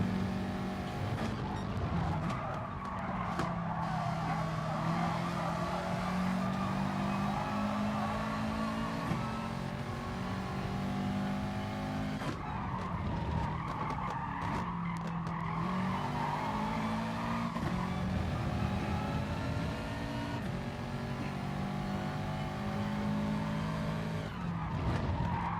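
A Subaru and a Ferrari race in GT Sport's four-wheel-drive challenge, their engines droning and rising steadily while tires squeal and skid through corners, loud and continuous from start to finish.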